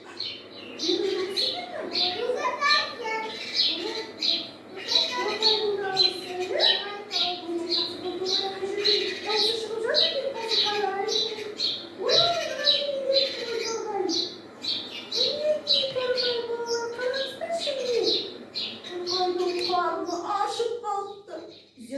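A sparrow chirps in quick, repeated bursts across the whole stretch, mixed with children's voices and an adult talking close by.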